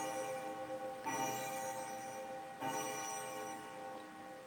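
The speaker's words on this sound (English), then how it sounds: "this damn thing's gonna keep chiming" A clock chimes faintly, with two soft struck tones about a second and a half apart, each leaving sustained, ringing overtones in a quiet room.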